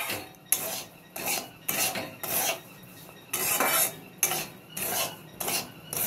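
Semolina being dry-roasted in a pan for sweet laddus and stirred steadily, making repeated scraping, rasping strokes about every half second, close and fairly loud, with no talking.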